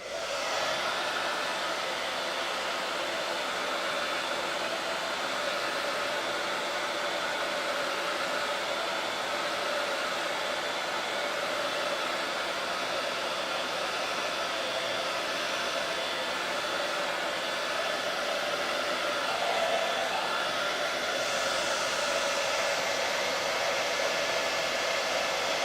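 Hair dryer blowing steadily on a painted tiki sign, a constant airy whoosh held close and level throughout, with a slight shift in tone near the end and no voices.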